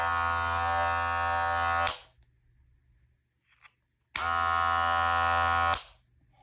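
Wahl Multi Cut electric hair clipper buzzing steadily for about two seconds, switching off, then running again for a similar stretch; a close, even motor hum with a brief quiet gap between.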